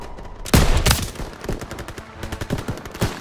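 Machine guns fire in Call of Duty WWII, rapid bursts of loud shots rattling in quick succession with a heavy opening blast, dense and close over the battle.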